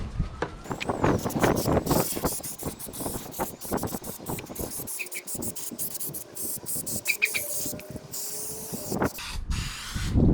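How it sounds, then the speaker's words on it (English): Repeated short bursts of an aerosol adhesive spray can hissing close up onto a valve cover gasket of a 2005 Toyota, with brief pauses between sprays. "spray some adhesive all onto the gasket"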